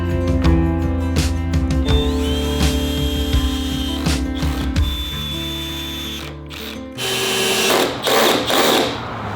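Power drill driving wood screws through plywood into the back wall frame of a Ford E350 box van camper, a steady motor whine with ratcheting clutch bursts, stopping near the end, then louder clattering handling noises, close and without talk.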